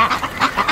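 Short run of soft, breathy Muscovy duck calls, several quick hissing honks in a row, close by.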